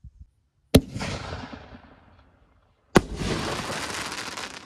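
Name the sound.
red Pro Shells strobe willow firework canister shell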